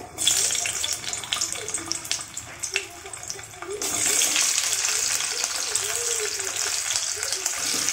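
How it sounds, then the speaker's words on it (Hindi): Small whole potatoes frying in a pan at home, a steady hissing sizzle that swells partway through and continues evenly, with some stirring clatter early on. "आलू को मैं ऐसे ही फ्राई करूँगी"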